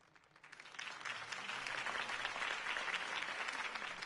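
A video game crowd applauds a campaign speech in Telltale's Batman series, the clapping swelling quickly and holding at a dense, sustained level.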